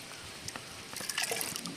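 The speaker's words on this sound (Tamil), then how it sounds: "ஹியூமிக் ஆசிட் கலக்கின தண்ணியில் ஊற்றி நல்லா கலந்து விட்டுக்கலாம்." Water mixed with humic acid is poured, first with a few light drips and splashes, then a steadier, close trickle building toward the end.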